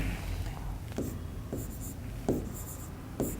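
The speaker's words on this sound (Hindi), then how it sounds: "थोड़ी सी थ्योरी लिख देता हूं पहले मैं।" Chalk or marker writing on a board during a physics lesson, with short scratchy strokes and taps spaced a second or so apart, clear and close under faint room noise.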